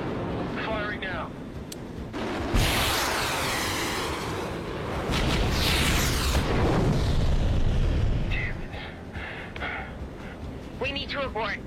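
Weapons fire and heavy explosions in an action war film: a loud sustained roar of blasts and rumbling booms across several seconds, with brief voices and crackling bursts at the edges.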